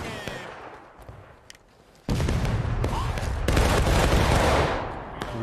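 Massed musket volley firing as covering fire in the Civil War video game War of Rights, Gettysburg map: a sudden loud burst of many overlapping shots that swells into sustained, rolling gunfire after a quieter stretch of scattered distant fire.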